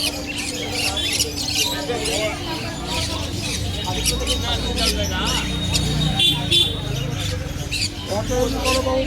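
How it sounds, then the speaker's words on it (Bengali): Lutino Fischer's lovebirds squawk and chirp repeatedly at a busy pet bird market, the harsh calls layered over steady crowd babble and nearby voices throughout. "মদের সাথে স্পাইট রয়েছে ভাইলেট সাথে ফিশার আর এখানে লুটিনো ফিশার পাখিগুলো দেখতে পাচ্ছ"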